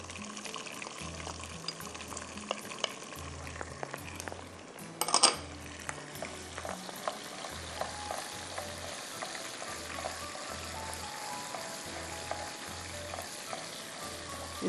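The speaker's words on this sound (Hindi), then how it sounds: "इसको हम 2 मिनट फ्राई करेंगे।" Crushed garlic sizzles and fries steadily in a pan for a balti fish dish, with a constant close crackle, a few brief stirring scrapes and a louder clatter partway through; no voices.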